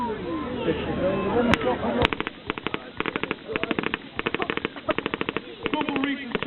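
Rapid bursts of automatic gunfire from soldiers laying down suppressing fire in a battle demonstration at an Armed Forces Day display in Edinburgh, repeated short volleys at close range with a sharp louder report early on.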